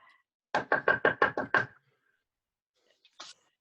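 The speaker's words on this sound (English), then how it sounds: "Spaceman knocking on the door." Six quick, evenly spaced knocks on a house door, close and distinct, followed by silence and a couple of faint small noises near the end.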